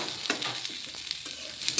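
Onions browning in a little oil for a vegetable curry of bean seeds, Malabar spinach and potato, a soft steady sizzle with light stirring scrapes, close and fairly quiet.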